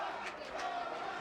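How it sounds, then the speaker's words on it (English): Boxing arena crowd chanting the name Roman, a dense, sustained roar of many voices with rhythmic swells, fairly loud and continuous. "Crowd chanting, Roman, Roman"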